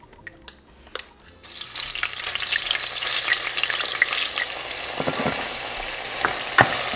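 Crushed garlic hits hot butter in a pan for a rice-and-beef pilaf, setting off a loud, steady sizzle after a few faint handling taps, with scattered crackles and clinks running through to the end and no voice.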